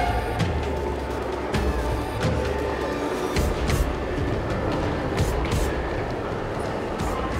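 A Moscow Metro subway train heard from inside a car while riding, with a loud continuous rumble, rattling and periodic rail clatter and squeals under steady motion.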